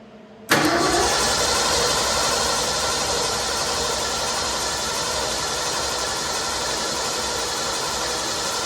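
An old Ford engine running on stale fuel cranks and catches after a sharp start, then holds a loud, steady, rough churning drone for several seconds, close and unbroken.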